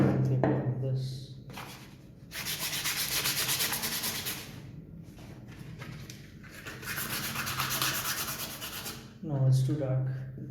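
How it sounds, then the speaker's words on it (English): Burned wood being hand-sanded with coarse 36 grit sandpaper, long steady rasping strokes in two extended bursts, close and loud, with a voice speaking briefly between and around them. "Let me use .36 grit sandpaper on this."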